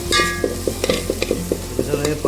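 Chili, garlic, onion and tomato sauté in a pan, a loud close sizzle punctuated by a quick, regular series of spatula scrapes and taps, about four per second.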